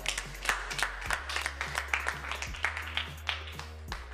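A group clapping hands in steady, fairly quick rhythm at a school gathering in praise of a student, with sharp bursts continuing throughout at close range.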